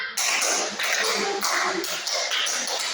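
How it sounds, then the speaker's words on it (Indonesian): Students in a classroom clap a group rhythm pattern, a run of crowded, overlapping hand-claps in quick bursts that continues steadily and near for a few seconds, with a faint voice underneath. "Oke, 5 kali tepuk 5."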